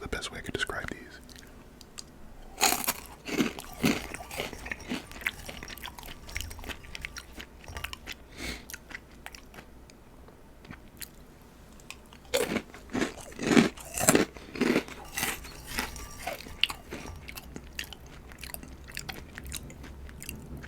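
Crunchy Vitner's Hot Crunchy Kurls cheese snacks are bitten and chewed close to the mic in quiet bursts of crackly crunches, with soft whispering between bites.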